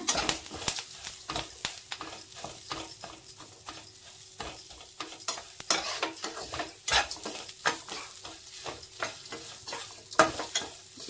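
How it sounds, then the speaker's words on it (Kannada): Bitter gourd frying with turmeric and green chillies in a pan, a steady soft sizzle broken by frequent sharp scraping and clinking of a spatula stirring, close and moderately loud, with no talking. "ಈಗ ಇದಿಷ್ಟು ಚೆನ್ನಾಗಿ ಫ್ರೈ ಮಾಡ್ಕೊಳ್ಳೋಣ."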